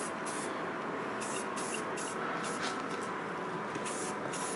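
A paint sprayer hissing steadily as it coats an FPV antenna mast indoors, a loud continuous spray with slight pulsing, close and without talk.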